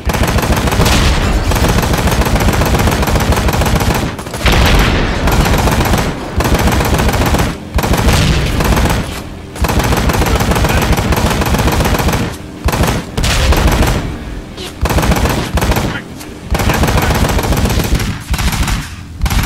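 Heavy gunfire in the motorcycle action game Ride to Hell: Retribution, loud sustained bursts of automatic shots broken by short pauses, with no speech over it.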